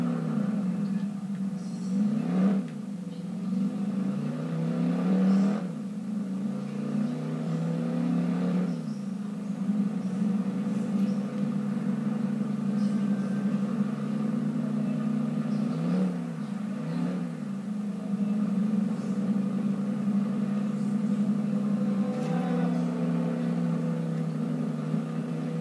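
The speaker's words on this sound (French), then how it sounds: "Ok, c'est la vieille moto là des années 50" An old 1950s motorcycle engine in the Watch Dogs video game revving repeatedly, its pitch rising and falling in several swells over a steady drone, fairly close and with no talk.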